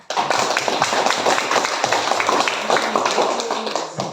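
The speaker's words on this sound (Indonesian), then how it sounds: "Tepuk tangan." Students in an Indonesian classroom clap their hands after a group presentation, a dense, steady burst of hand claps lasting several seconds, fairly loud and close, with voices mixed in.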